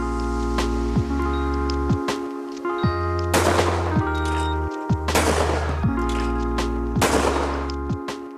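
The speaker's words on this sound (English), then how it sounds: "So we've just shot the Miroku on the same stand as the Beretta." A Miroku 6000 shotgun fires on an outdoor shooting stand, with a few sharp, loud reports spaced seconds apart over a steady tonal background hum.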